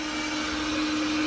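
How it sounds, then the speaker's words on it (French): A household vacuum cleaner runs close by indoors, a loud steady whining drone with a constant hum and no breaks, no talking over it. "C'est mon aspirateur que je viens de lancer et donc il passe à côté de où je suis"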